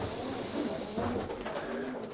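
A racing pigeon resting in its box gives a faint, low, soft cooing against quiet background noise.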